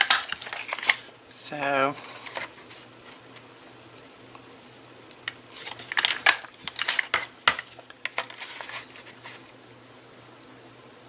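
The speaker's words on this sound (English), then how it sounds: "we're going to use a scallop punch, and this is just a little eyelet scallop punch" A small eyelet scallop paper punch cuts through paper with a short crunching snap, followed later by clusters of light clicks and taps; a voice speaks briefly at the start.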